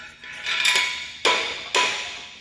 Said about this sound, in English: I will be driving this stake with this hammer